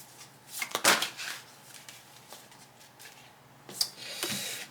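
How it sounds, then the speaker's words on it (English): A hefty double deck of playing cards riffle-shuffled by small hands, two quick bursts of ruffling card flutter a few seconds apart, close and fairly quiet. "I am shuffling a double deck, and it's hefty for my little Lee hands."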